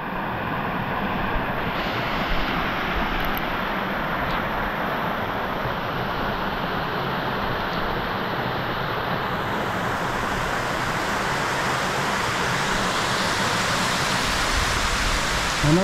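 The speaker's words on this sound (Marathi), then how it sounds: "हा तो धबधबा." A monsoon waterfall at Bedse Caves roars in a constant, dense wash of rushing water, loud and unbroken from start to finish.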